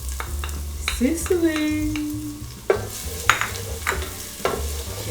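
Minced garlic frying in a pan for Filipino chicken sopas, stirred with a utensil: close sizzling with several sharp scraping stirs, and a voice briefly speaks over it.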